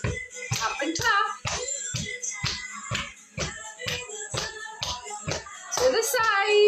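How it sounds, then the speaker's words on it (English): Rhythmic tapping and clapping from a seated move-to-music exercise session, steady evenly spaced hits about every half second over background music, fairly close. "Tap and clap."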